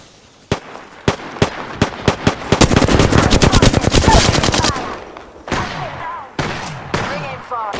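Gunfire in the Apex Legends video game: single sharp shots at first, then a dense rapid automatic burst, then scattered shots again, loud and close.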